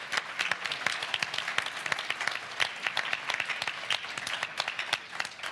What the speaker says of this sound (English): Another huge round of applause for Miata.